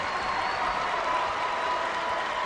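A sellout basketball crowd of 4,850 at St. Bonaventure roars in a steady, dense wash of cheering and noise that fills the arena without letup, no single voice standing out.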